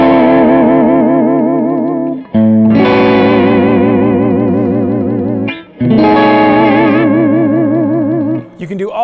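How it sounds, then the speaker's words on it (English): Fender electric guitar played loud with heavy tremolo-arm detuning, the strings wobbling in pitch in long sustained, warbling chords broken by brief gaps, with a surfy, effect-laden tone and no talking. "when you depress on the arm, it detunes the strings and gives you a very distinctive surfy kind of sound"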